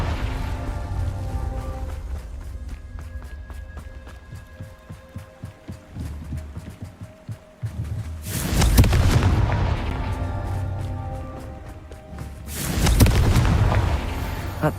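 Two big Confringo fire blast explosions in Hogwarts Legacy, each a loud roaring burst that lingers for a few seconds, preceded by a run of quick rhythmic thuds and clatter in combat.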